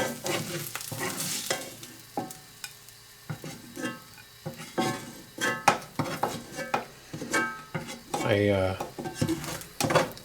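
Cooked Dryad's saddle (pheasant back) mushrooms are moved from a pan onto a plate, with clustered utensil scrapes and clinks against cookware, a faint sizzle, and a voice speaking briefly.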